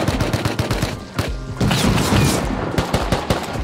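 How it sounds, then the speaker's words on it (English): Gunfire in the survival game Rust, with rapid sharp shots and bursts from several weapons cracking close and loud, some clustered volleys, steady rattling through the stretch with no talk. "They're still shooting at me."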